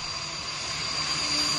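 A Mirage 2000 fighter jet on the Purvanchal Expressway gives off a loud, steady engine roar that swells slightly over this short stretch, with no voices.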